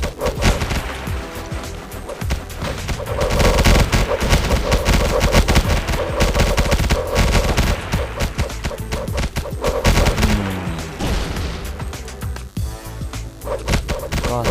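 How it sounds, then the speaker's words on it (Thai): Rifle turret fire in the game Gang Nations, shooting at a flying drone: dense, continuous bursts of gunshots and impacts that carry loudly through the whole stretch, with a voice talking over the battle. "แสดงว่าป้อมไรเฟิลยิงมันได้นะครับ"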